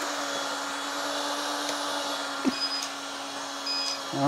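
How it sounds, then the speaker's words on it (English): An electric space heater running from a 12 V 100 Ah LiFePO4 battery gives a steady fan whoosh with a faint electrical hum, loud and close, broken by a couple of small clicks and knocks near the end. "Space heater."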